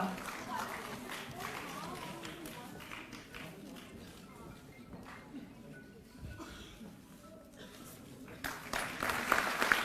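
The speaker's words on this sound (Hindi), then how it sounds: "तालियों की करतल ध्वनि में कृपया अपना योगदान देते रहें" Audience applause fills the hall at the Delhi Commission for Women's International Women's Day Awards 2023 ceremony, a steady wash of clapping under an announcer's voice that swells louder near the end.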